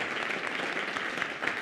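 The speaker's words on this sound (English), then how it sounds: "Let's give them a big round of applause." Applause rolls through the audience at a live climate change show, a brief, even, dense clatter of many hands from a crowd in a hall.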